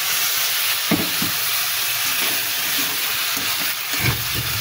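Taro stolons (kochur loti) being sautéed in a pan at home, giving a steady close sizzle and frying hiss with a few soft scraping stirs and knocks, no voices.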